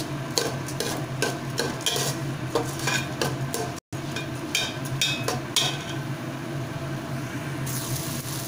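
Rice and lentils fry over a full flame in a pan as a utensil stirs and scrapes, making a sizzling bed with clinking strikes against the metal. The sound is close and busy, with a brief cut partway through and no speech.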